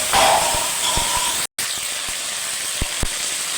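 Ginger paste sizzling as it hits frying tomato in a pan for chana paneer, a loud steady hiss with scattered small pops and clicks close by, no voices.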